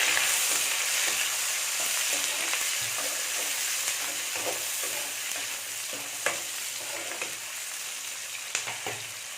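Onions and slit green chillies sautéing in a pan for paneer biryani, a steady close sizzle and fry with scraping stirs and occasional clinks throughout.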